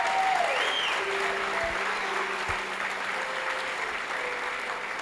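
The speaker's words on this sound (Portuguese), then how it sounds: "Pode dar uma salva de palmas mais alto, se for Jesus." A conference audience applauds steadily at a church event, a continuous wash of clapping that stays moderate and even throughout.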